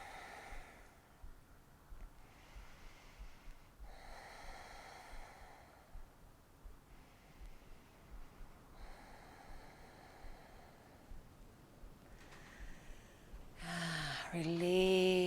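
Slow, soft breaths drawn in and let out during a gentle yoga practice adapted for osteoporosis, close and quiet with steady pauses, followed by a voice starting to speak at the end.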